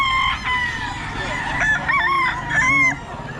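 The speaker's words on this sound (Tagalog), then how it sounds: "Maraming manok dito ngayon, si Boss Randy." Roosters crow and chickens cluck at a busy poultry market at a festival expo, with several loud overlapping crows close by above a crowded, noisy background.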